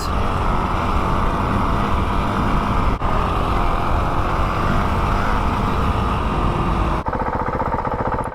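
A Honda CRF 300 Rally dirt bike engine runs loud and steady close by, a continuous throaty drone with a brief dip partway through and a change in tone near the end.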